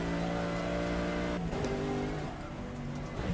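A Mercedes race car in a racing game howls at full throttle, its engine note climbing steadily, then dipping for a gear change and rising again, loud and close with no voices.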